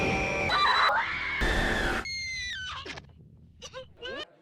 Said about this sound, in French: Les hurleuses professionnelles.